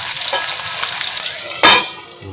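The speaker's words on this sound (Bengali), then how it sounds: "আলুগুলো একটু লাল লাল করে ভেজে নেব" Potatoes fry in a covered pan for a vegetarian gram-flour and potato dish, giving a steady close sizzle with a sharper burst of crackle late in the clip, with no voices.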